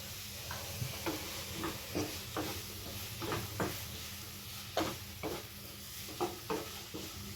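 Salted chicken curry ingredients are sautéed in a pan for a Kerala-style curry, a low steady sizzle under repeated sharp scrapes and clicks of a spatula stirring at irregular intervals, close and fairly quiet, with no talking.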